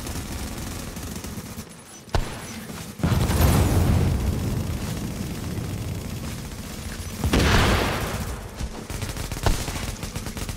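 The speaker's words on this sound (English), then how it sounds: "Those guys are shooting us from across the way" Heavy gunfire during a clan fight in an online shooter, with dense machine-gun bursts and booming blasts close by, loud and sustained, surging twice over the stretch.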